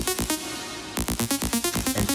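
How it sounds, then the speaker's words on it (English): A synth lead programmed in FL Studio plays short, punchy staccato notes in a quick rhythmic pattern, with one held note and a brief gap before a run of rapid repeated stabs, heard alone and fairly dry. "we have the lead sound and it sounds like this"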